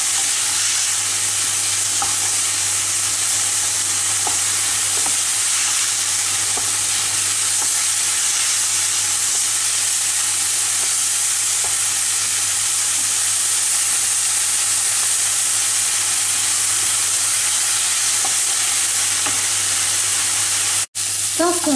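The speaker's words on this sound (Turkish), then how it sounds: "İçin sürmeyi tavada kavuruyoruz" Eggplant filling dry-roasting in a pan without oil gives a continuous, even sizzle and hiss close up, broken by scraping stirs throughout, then a sharp knock near the end.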